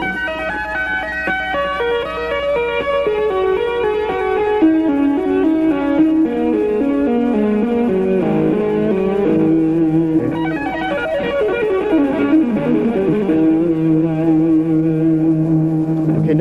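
Two-handed guitar tapping with hammer-ons and pull-offs across the strings, forming a continuous, fluid cascade of sustained, overlapping notes that shift pitch in rapid patterns, loud and steady with no talking.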